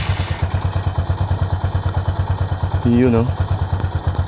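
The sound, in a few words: motorcycle engine running during tachometer test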